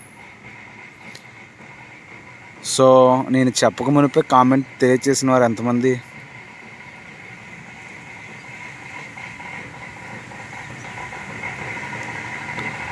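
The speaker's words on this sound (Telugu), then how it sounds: "సో ట్రైన్ నేమ్ వచ్చి చెంగల్పట్టు నుంచి కాకినాడ పోర్ట్ వెళ్ళవలసిన సర్కార్ ఎక్స్ప్రెస్." The Sircar Express, hauled by a red VF4 locomotive on the Chengalpattu–Kakinada Port run, rumbles past in a continuous rolling drone, with someone talking briefly partway through.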